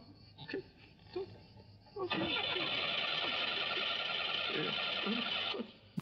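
A car engine from an old road car cranks repeatedly without catching after a rough drive over bumpy roads; a steady grinding starter whir runs for several seconds, moderately close, with brief voices before it.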